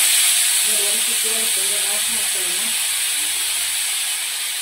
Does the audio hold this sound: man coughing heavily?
no